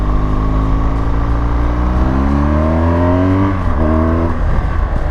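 A BMW GS 1200 motorcycle accelerating on the road, its engine note rising steadily in pitch through the gears, loud and close with a brief dip and pickup near the end.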